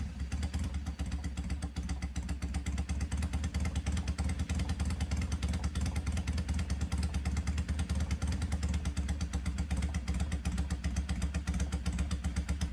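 A Laverda 750 air-cooled twin motorcycle engine runs steadily close by, with a deep, thumping low rumble and rapid mechanical clatter that stays loud and even throughout, with no voices.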